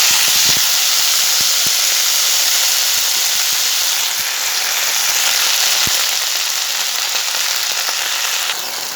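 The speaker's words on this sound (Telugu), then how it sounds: "ఇలా పుదీనా మంచిగా ఆయిల్లో ఫ్రై చేయాలండి" Mint leaves frying in oil in a kadai, giving a loud, steady, close hiss and sizzle that runs throughout, dotted with small pops and crackles, and no talk.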